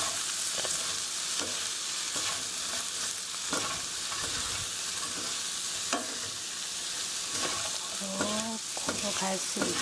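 Chicken coated in turmeric curry powder and onion sizzles in a pan while it is stirred and tossed, a constant frying hiss broken by repeated spatula scrapes and clacks against the metal.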